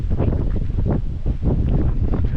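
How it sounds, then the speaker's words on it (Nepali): Cold wind gusting beside a large dam pond at Dhap Dam near Kathmandu, a loud low buffeting roar across the microphone that rises and falls in uneven surges. "हावा पनि चिसो हावा चलिरहेको छ यतातिर।"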